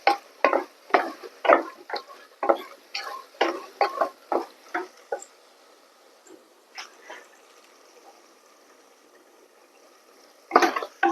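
Masala being stirred into sautéed tomatoes for beef kurma, a run of quick spoon scrapes against the pan in a steady rhythm, fading to quiet before one more burst of stirring at the end.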